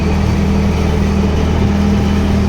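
Inside the cab of a tractor working a soybean field, the engine runs with a loud, steady low drone that never changes pitch across the short stretch, with no speech.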